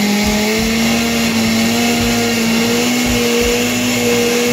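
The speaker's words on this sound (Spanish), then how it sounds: "Y ahora sí, a licuar." A kitchen blender whirs steadily and loudly as it mixes flour, cocoa powder and melted butter for chocolate bread, a continuous motor drone with a low pulsing churn and no voices.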